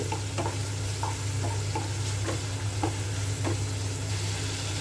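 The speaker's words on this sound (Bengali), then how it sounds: "আগে থেকে ধুয়ে রাখা চিংড়ি মাছগুলো দিয়ে দিলাম মশলার সাথে ভালো করে মিক্স করে নেব" Washed prawns fry in cooked spice masala under a steady low hum, with a series of short, regular scraping and stirring strokes over a continuous sizzle, close by.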